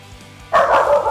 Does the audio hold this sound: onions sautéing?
no